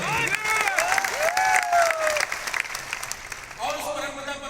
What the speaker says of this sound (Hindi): ऐसे माँ बाप को मैं चाहूंगा एक जोरदार ताली दीजिए।